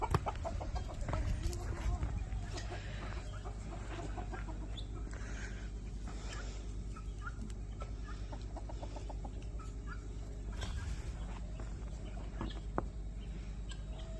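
Rooster on a snowy hillside farm near guineas and hens, giving faint clucks and calls against a low outdoor rumble, with a few sharper calls scattered throughout.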